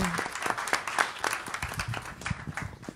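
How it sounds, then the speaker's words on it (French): Scattered applause at a gathering on men's engagement for gender equality, fairly sparse claps with distinct individual hits rising and falling, moderately quiet, with some indistinct voices mixed in. "Vous pouvez l'applaudir"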